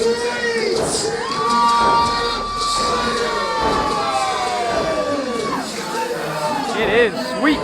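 A large crowd at a live pro wrestling rumble event cheers and shouts steadily throughout, loud and sustained, with piercing high-pitched yells rising above the roar and an announcer talking over it.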